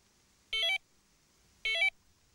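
Two short electronic beeps from a Tx-i Plus fishing bite alarm, each a quick two-tone chirp, sound about a second apart against near silence.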